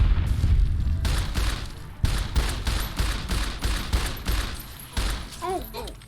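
Rapid 10mm pistol fire in the video game Fallout New Vegas, a string of sharp shots in quick bursts with brief pauses, loud and close over game background noise.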